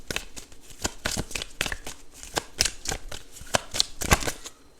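Tarot cards being shuffled for a reading, a run of crisp riffling snaps and flutters at irregular intervals, close and clear with no talk.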